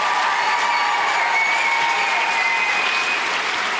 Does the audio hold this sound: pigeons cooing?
no